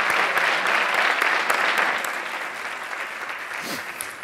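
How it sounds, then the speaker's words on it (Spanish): Applause for a bugle and drum processional band from Villanueva de la Serena at a band gathering in Cabeza del Buey, a dense steady clapping from a crowd that fades slightly toward the end. "Un fuerte aplauso para la banda de cornetas y tambores de Villanueva de la Serena"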